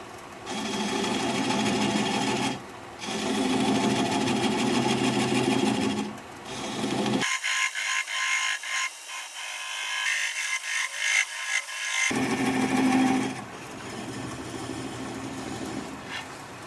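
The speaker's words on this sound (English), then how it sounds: "I'm going to turn the speed down to about 400 RPM, and I'm going to use a 3/8 inch swept-back bowl gouge" A wood lathe turns a bowl at about 400 RPM while a 3/8 inch swept-back bowl gouge cuts, giving a close, loud steady whir with several sharp drops in level and a rougher, choppy cutting stretch in the middle.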